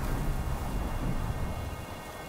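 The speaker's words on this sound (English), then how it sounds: "the audio design with the rain constantly falling" Steady rain falls without a break in the video game Three Fourths Home, a dense, even wash of hiss with a low rumble underneath, holding at one level throughout with no voices.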